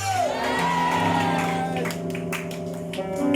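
A church congregation shouting and whooping in acclaim to the Lord at a worship service, a loud sustained crowd roar with a rising voice over it.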